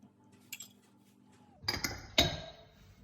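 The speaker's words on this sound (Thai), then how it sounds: "คนส่วนผสมอย่างให้เข้ากันค่ะ" A spoon stirs eclair custard mixture of sugar, flour and milk in a bowl, with a few sharp clinks of metal against the bowl over quiet near-silence.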